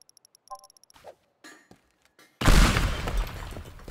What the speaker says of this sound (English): Oh, I thought it would be a bigger explosion.